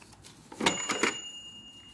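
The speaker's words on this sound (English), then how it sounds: "Oh, you have nice cash register machine." A toy-like cash register machine gives a couple of quick clicky key presses with a brief electronic beep tone, close and fairly quiet.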